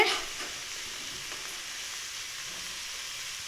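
Carrots tipped into a pan of lightly sautéed ginger and garlic give a steady, close sizzle of frying that holds evenly throughout, with no voices.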